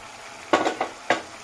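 Fried okra stirred in a spiced pan, three quick scraping clatters of a spatula over a faint sizzle, close and short.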